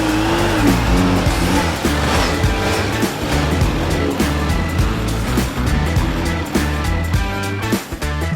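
A motorcycle engine keeps running just after starting, a loud, steady close-up roar with a continuous rumble and slight pitch changes, and no one talking over it.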